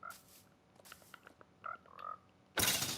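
Frogs croak in a Minecraft game world, a few short separate croaks scattered through quiet, followed at the end by a sudden loud burst of broadband noise.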